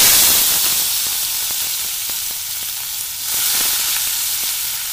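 Cumin and mustard seeds crackle in hot oil with a steady bright sizzle, while faint popping ticks break through the hiss now and then.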